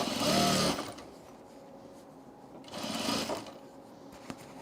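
Sewing machine stitching binding onto a vinyl tool case, two bursts of fast whirring stitches separated by a quiet pause, close and clear.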